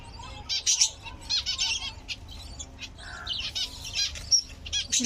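Pet munia and finch birds chirp indoors in bright, high bursts while wings flutter and flap close by, the twittering coming in busy clusters throughout.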